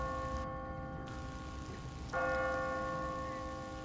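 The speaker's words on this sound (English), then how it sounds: "What kind of church bell goes off at 20 past the hour?" A church bell in a zombie survival video game rings on an automatic timer, its long sustained tones swelling and striking again midway, loud and resonant with no one speaking.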